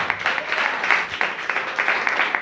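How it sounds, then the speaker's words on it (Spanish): A church congregation breaks into steady applause, many hands clapping together in a brisk, continuous patter that fills the room for a couple of seconds. "Denle palmas, claro que eso lo merece."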